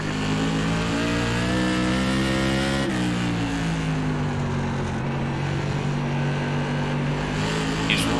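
A Whelen Tour Modified race car in iRacing at South Boston roars steadily at high revs for the whole stretch, its engine pitch dipping and recovering through a corner, loud and close with no talk.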